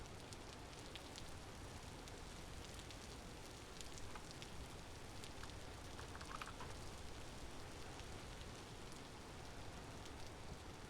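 Steady rain falling in the survival game Vintage Story, a dense, even hiss of drops that keeps going without a break or any talk.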